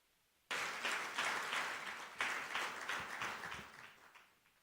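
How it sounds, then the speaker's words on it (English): A round of applause from a conference audience at the Absa Inspire Me Conference 2024, breaking out abruptly after a moment of quiet, surging again midway, then gradually thinning and dying down. "we walk her to her seat with a round of applause"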